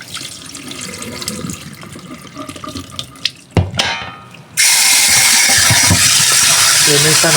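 Running tap water pours into a sink as mung beans are washed before boiling, starting as a light trickle with clatter and then becoming a loud, steady full gush.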